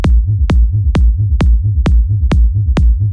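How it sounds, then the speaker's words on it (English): A bass line run through Ableton's sub kick maker effect pulses with a powerful, deep sub and clear low end, sharp kick-like attacks landing in a steady rhythm about twice per second, loud and alone. "Now you can hear I have a powerful sub and a clear low end."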